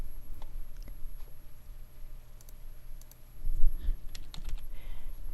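Someone types a file title on a computer keyboard, giving scattered key clicks in short runs over a low room hum, with a brief shuffle in the middle.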